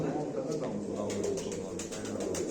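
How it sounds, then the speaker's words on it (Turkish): Tumbler pigeons kept for play flying coo close by, a soft, continuous low burble with faint chirps over it. "Böyle çok güzel kaliteli oyun kuşlarımız gelmiş."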